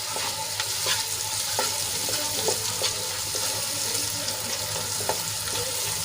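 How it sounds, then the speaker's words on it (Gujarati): Garam masala and other spices sizzle steadily in a hot pan while a utensil scrapes and knocks against it every second or so, no voices. "એ બધા મસાલા સરસ રીતે મિક્સ કરી લઈશું"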